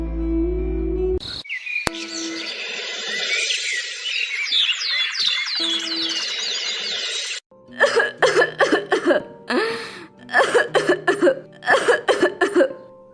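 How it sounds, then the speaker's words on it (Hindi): An old woman coughs harshly and repeatedly in clustered bursts, preceded by a stretch of high chirping and other sounds, in a cartoon. "आपकी खांसी बहुत बढ़ गई है"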